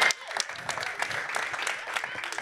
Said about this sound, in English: Y'all give him a round of applause and all the love.